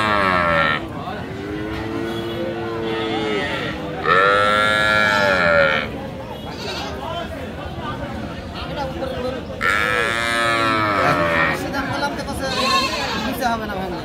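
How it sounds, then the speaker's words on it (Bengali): Shahiwal cows and calves moo loudly at a cattle market in Aftabganj, Dinajpur, with long drawn calls repeating several times over steady crowd chatter and people talking nearby. "বেশ চটপটে গাভি।"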